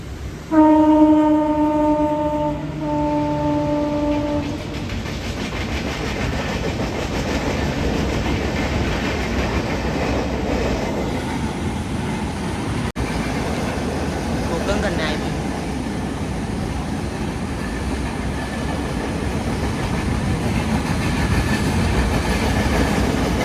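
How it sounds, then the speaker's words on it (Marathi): A train sounds its horn in long tones, then rumbles past with steady rolling clatter, loud and near for the rest, near Ukshi waterfall in Ratnagiri. "ट्रेन आलेली आहे"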